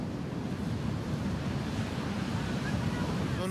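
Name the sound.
ocean waves on a beach where orcas are stranded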